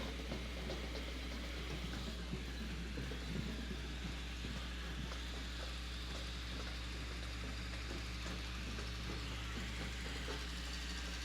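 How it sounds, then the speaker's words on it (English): A 1970 John Deere tractor runs steadily in a small-town parade, its low engine drone and mechanical clatter continuous and moderately close for the whole stretch, with no talk over it. "Next we have the Tractor Brigade, 1970, John Deere."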